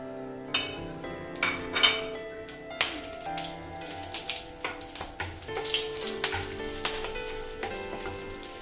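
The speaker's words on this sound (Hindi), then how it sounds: "ऑयल मेरे गर्म हो चुके हैं, इसमें मैं साबुत जीरा, लौंग, दालचीनी," Whole spices, cumin seeds, cloves, cinnamon and cardamom, crackle and sizzle in hot oil in a home kitchen pan, with sharp spitting pops over a steady frying hiss, close and fairly loud.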